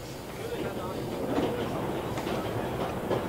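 Train rolling along rails in the video game 11-11: Memories Retold, a steady dense rumble with faint rhythmic clatter running throughout, close and continuous.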